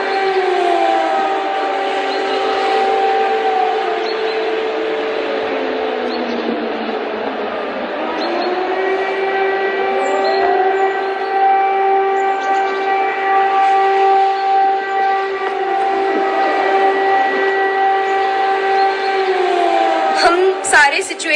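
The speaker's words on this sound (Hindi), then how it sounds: "यह तस्वीर टर्नोपिल शहर की है, जहां आप सायरन की आवाज सुन सकते हैं" An air-raid siren wails over the city of Ternopil, loud and prolonged. Its tone slides down, then climbs back to a steady high pitch and holds for many seconds, with faint background noise and a brief clatter at the end.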